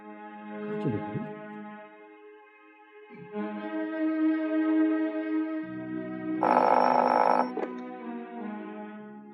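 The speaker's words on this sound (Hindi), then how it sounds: "तुम ऐसा करो कि वो नादिर भाई के दफ्तर फोन करो।" An office telephone rings on a call, a steady electronic tone with rich harmonics sounding in long stretches, joined briefly by a brighter buzzing ring.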